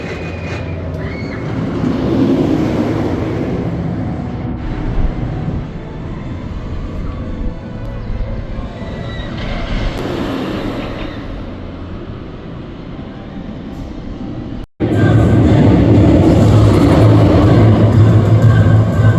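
A roller coaster train rolls out of the station at Energylandia, first as a broad rumbling roar, then as a louder, nearer rush after a sudden break, with no voices.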